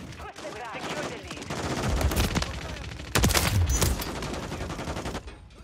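Heavy automatic gunfire in Modern Warfare 3, loud sustained bursts of shots with a sharp close blast near the middle, over battle noise and faint game voice lines.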